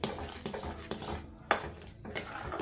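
A spoon stirs ground cardamom sugar into a fenugreek, edible gum and dry fruit ladoo mixture, giving a run of soft scraping strokes against the bowl with a brief quiet pause partway through.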